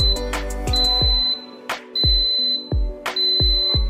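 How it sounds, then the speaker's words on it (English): A Pigeon multi-function sterilizer sounds a sequence of sharp, high electronic beeps as it finishes, each one clear and evenly spaced over a low background hum and thumps. "When all the water has evaporated at around 9 minutes, there will be a sound of 5 beeps."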